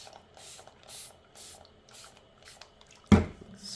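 Several soft, short bursts of spray hiss repeat at a steady pace, followed by a sharper, louder spritz near the end.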